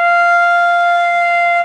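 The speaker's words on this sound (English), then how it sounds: "So with no vibrato, an F would sound like this." A flute holds a single steady F with no vibrato, a clear, loud and unwavering tone that sounds alone and stops abruptly.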